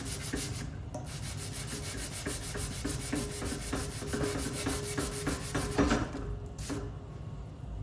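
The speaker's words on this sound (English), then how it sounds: "So there's a look at how this sanding kit works." Close, rapid back-and-forth rasping of sandpaper on wood from a mini detail sanding kit with a hard, slightly flexible rubber pad, in a steady rhythm, with brief pauses, and no voices.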